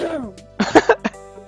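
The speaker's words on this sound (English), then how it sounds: "It's like all we're doing is coughing." Several people cough in short bursts, a drawn-out throat-clearing rasp followed by a quick cluster of sharp coughs close to the listener, with no speech.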